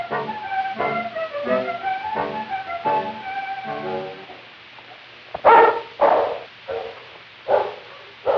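A team of seven sled dogs barks and yelps loudly as it sets off on a trail near Moose Factory, in the fur country of 1942, several sharp barks following a stretch of whining, singing howls.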